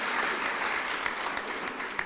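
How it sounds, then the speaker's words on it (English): An audience at a service dog class graduation claps in a steady, fairly distant patter of applause lasting a couple of seconds. "give a round of applause for Adam Beasley"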